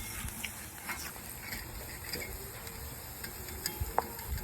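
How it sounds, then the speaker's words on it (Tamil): Cauliflower pieces for manchurian fry in hot oil with a faint, steady sizzle and occasional soft pops and clinks. "காலிஃப்ளவரை பிசைஞ்சு வச்சு எல்லாம் எண்ணெயில் போட்டு இந்த மாதிரி பொன் கலர், கோல்டன் கலராக வரணும்."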